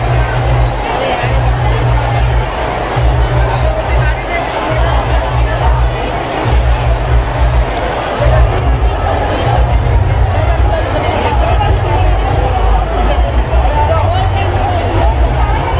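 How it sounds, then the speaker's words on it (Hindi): Large crowd babble at a Shiv Mahapuran kalash yatra, a dense, loud murmur of many voices with a low rumbling hum underneath, continuing steadily throughout. "इतनी ज़्यादा भीड़।"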